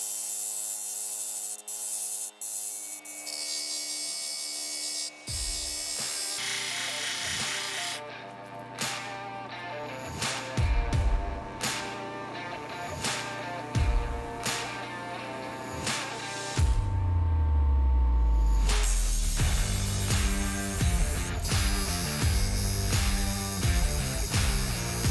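An 8-inch Cabking cabbing machine polishes a Lake Superior agate on softback resin wheels, with a steady motor whine and water spray under repeated scraping and grinding strokes of stone against the wheel that shift and grow louder toward the end.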